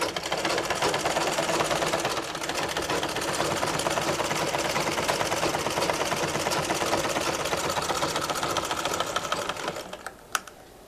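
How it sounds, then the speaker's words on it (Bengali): A sewing machine runs steadily for about ten seconds, stitching the side seam of a kameez, then stops near the end. "তারপর সাইড সেলাই করতে হবে"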